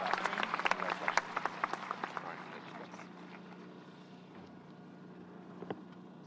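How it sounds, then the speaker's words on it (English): An audience at the Halls High School 2023 graduation claps in a burst that fades over a few seconds, with a few close individual claps standing out above a low hum. "Let's give a round of applause for Miss Isabel Benson."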